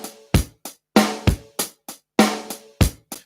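A drum kit plays a sparse live groove alone: punchy kick and snare hits with ringing cymbal wash, spaced in a steady, syncopated pattern, close and loud.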